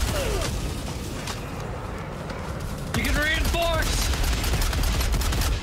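A gun fires in the video game Helldivers 2 as rapid, dense bursts of gunfire under a busy game soundscape, loud and continuous throughout, with voices talking over it.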